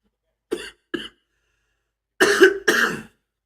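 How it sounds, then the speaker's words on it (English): Two short coughs, a pause, then two louder, harsher coughs, close and otherwise silent. "this cough has been disturbing me"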